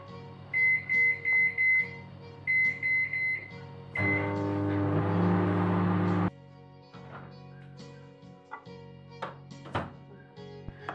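A microwave oven heating chocolate chunks at 70% power: a run of repeated electronic beeps, then a steady hum for about two seconds that stops with a clunk, followed by faint kitchen clatter.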